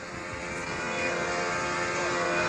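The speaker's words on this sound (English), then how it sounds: "Engine fired quickly." A control line model aircraft engine runs at a competition on a concrete flying circle, a steady high-pitched buzzing whine that holds a constant pitch and grows slightly louder over a few seconds.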